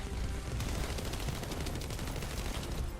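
Enemy rocket barrage in The First Descendant at a Sharen outpost against a hard Colossus: a dense, continuous rattle of rapid explosions and gunfire-like cracks, loud and close throughout, with no voices.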